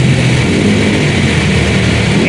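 A Toyota Corolla with a 2E engine idles at cold start on a fast idle, giving a steady, loud, continuous low rumble with no pauses.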